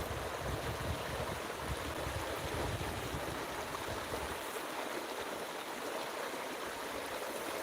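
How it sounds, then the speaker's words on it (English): A stream runs steadily at night with a continuous broadband rush of flowing water, close and even throughout, with no voices. "Love watching the water and listening to it."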